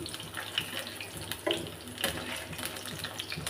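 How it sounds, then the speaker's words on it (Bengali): Gandha bhadali leaf fritters frying in oil give a continuous hiss, broken by a few clicks and scrapes as they are turned over in the pan. "ভালোভাবে ভাজা হয়ে গেছে সবগুলোই উল্টিয়ে দিই"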